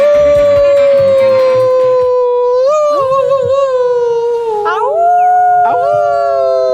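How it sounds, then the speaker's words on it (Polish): Several husky dogs howl together in long, wavering, overlapping cries that rise and fall, loud and close, with no talk over them. "takie psy mają tak, że jak się powie au, to one odpowiadają"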